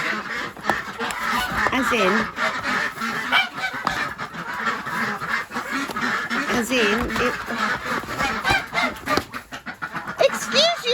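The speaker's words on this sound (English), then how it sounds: "excuse you, ducks, would you be quiet?" A flock of ducks quacks and honks loudly and repeatedly in rainy, muddy conditions, with a person talking over the racket.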